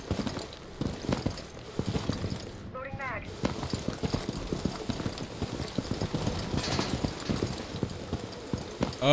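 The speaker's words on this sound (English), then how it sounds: "I can hear the footsteps." Rapid rhythmic footsteps in Rainbow Six Siege patter steadily through the game mix, with someone talking over them and a brief sweeping effect partway through.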